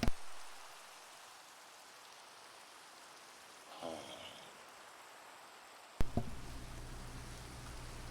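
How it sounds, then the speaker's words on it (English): Steady rain falling in the video game Minecraft, a soft, even hiss that runs through the whole stretch, broken by a couple of brief, sharper knocks partway through and near the end. "Hopefully that means the rain will stop."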